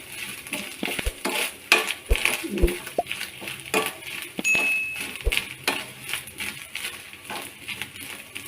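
Grated coconut frying in a pan for papaya erissery, stirred with a metal spoon that clinks and scrapes against the pan in irregular strokes, close up, with a faint voice in the background.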